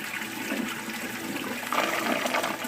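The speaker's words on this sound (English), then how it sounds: "it's going to get to the point where it's going to break the siphon" Water breaking the siphon in a pipe draining down into a sump tank at a bioshelter, a gurgling, rushing slurp of water and air that swells partway through.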